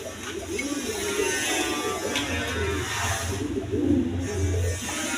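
A pair of Basiraj Coca pigeons coo low and steadily amid a busy market bustle, with a broad hiss and murmur of surrounding activity throughout.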